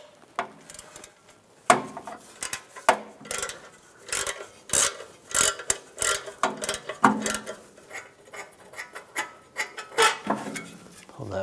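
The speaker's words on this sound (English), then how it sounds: "Using a E14 socket, I'm going to take this bolt out right here." Socket ratchet removing a shield bolt on a 2006-2009 Mercedes-Benz E350 during starter replacement, heard as a run of sharp metallic clicks and clanks in irregular bursts, close and fairly loud, with no talk.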